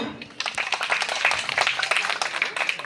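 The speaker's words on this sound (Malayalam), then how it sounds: "ഒരു ക്ലാപ്പ് തരാവോ" An audience at an Onam celebration in a flat complex claps together in a steady, dense round of applause that starts after a brief pause and carries on throughout.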